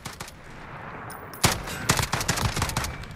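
FAL rifle fire in Call of Duty: Modern Warfare, a quick string of sharp semi-automatic shots, loud and close, with one burst after a short pause.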